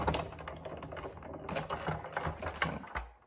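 Sizzix die-cutting machine running paper flowers and foliage through its rollers, a continuous close mechanical clatter and ratcheting grind with rapid irregular clicks.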